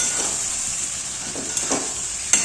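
Chicken pieces dropped into spice masala in a hot pan, giving a steady bright sizzle with a few louder spits and crackles as the meat hits the oil.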